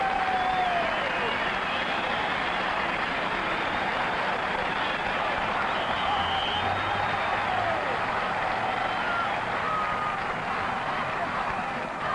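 A record stadium crowd at a 1970 CFL football game in Edmonton, Hamilton Tiger-Cats against Edmonton Eskimos, applauds and cheers in a dense, steady roar that fills the whole stretch without easing.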